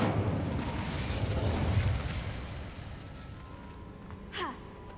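An Incendio fire spell cast in Hogwarts Legacy bursts out as a loud whooshing blast that fades over a couple of seconds, followed by a brief rising tone near the end.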